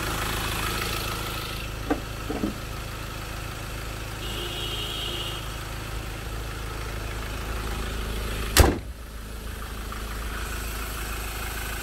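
A 2016 Mazda BT-50 pickup with a 2.2-litre turbo diesel idles steadily at close range, a smooth, even low rumble, with a couple of faint knocks early on and one sharp thump near the end.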